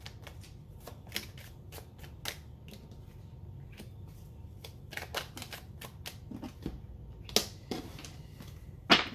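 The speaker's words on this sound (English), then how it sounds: "I'm going to pull a couple more cards" Tarot cards pulled from a deck and shuffled, a soft run of papery riffles and snaps with sharper flicks near the end, close and quiet with no voices.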